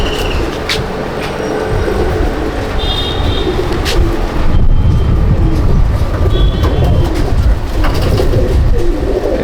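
Rampuri pigeons coo inside a loft, with soft repeated low calls half-buried under constant rumbling noise, scattered clicks and rustling, and a few thin high chirps.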